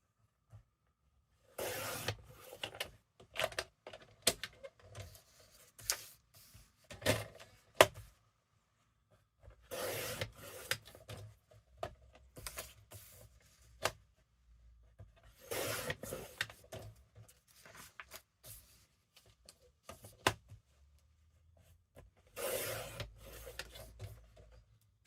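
Paper being trimmed for a double trifold ephemera craft, heard as repeated bursts of rasping cutting strokes separated by short pauses, close and fairly quiet with no talking.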